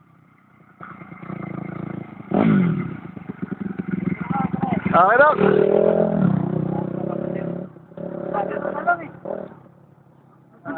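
A motorcycle engine revs and passes close by on a rural ride route, its rising and falling drone mixed with clatter while several people talk and shout excitedly over it.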